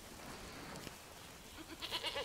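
Goat bleating in the video game Far Cry 6, a short faint wavering call near the end after a quiet stretch of ambient game sound.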